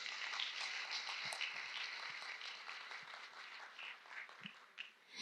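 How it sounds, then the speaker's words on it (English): A conference audience at a real estate and hospitality industry event in Hanoi applauds in a light, scattered round of clapping, with a steady tonal background underneath, thinning out near the end. "can we have a big round of applause for everyone here today?"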